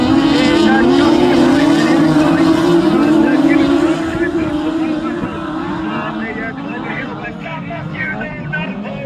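Race cars tear around a circuit at a men's national championship in South Wales, a loud, sustained engine roar that slowly fades as the cars pull away, with a commentator talking over it.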